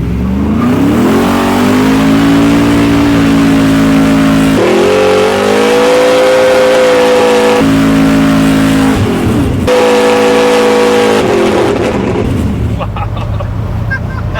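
A 1969 Camaro fitted with a Pump Gas Warrior 632 engine revving loudly and close, the rough idle climbing through several long sustained throttle sweeps and dropping back, with voices talking over the engine.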